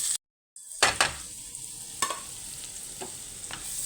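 Garlic and a little ginger sauté in a pan, a soft steady sizzle with a few clinks and scrapes of a stirring utensil, close and fairly quiet, after a brief silent gap at the start.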